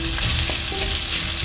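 Shallots and green chilies sauté in oil in a pan for a coconut milk chicken curry, giving a steady, close, bright hiss of sizzling with faint stirring clicks and no talk.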